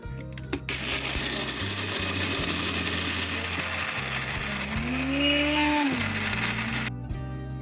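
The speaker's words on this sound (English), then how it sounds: "I want to blend these pistachios up into like a powder" A blender roars steadily and loudly, grinding pistachios into powder with a rattling, gritty texture, its pitch rising as it spins up before cutting out.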